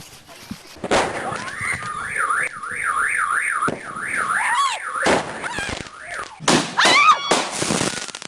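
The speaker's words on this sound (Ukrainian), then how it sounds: "На цих кадрах невдала спроба запустити салют" During a failed New Year fireworks launch, a wavering siren-like whistle rises and falls repeatedly, broken by loud pops and crackling bursts of fireworks going off nearby.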